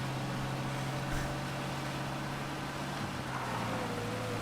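A car driving in the game Mafia Definitive Edition, a steady low engine drone and road rumble holding at an even level throughout, with no other sounds over it.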